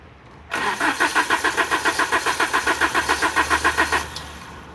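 An Alfa Romeo engine with a knocking fault being cranked by its starter: a steady, rhythmic whirring chug of about eighteen even pulses over three and a half seconds, close and loud, stopping without catching.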